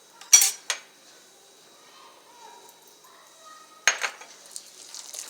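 Ghraybeh cookie dough with vanilla is mixed in a bowl: a few sharp utensil clinks against the bowl at the start and again near the end, with quiet scraping in between.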